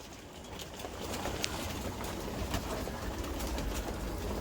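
Pigeons coo softly inside a pigeon loft, their calls faint over a constant airy background hum.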